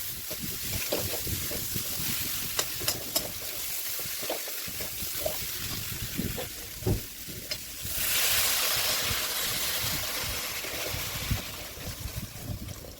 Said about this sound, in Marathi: मिक्स केल्यावर यात थोडं थोडे करून गरम पाणी टाकणार आहे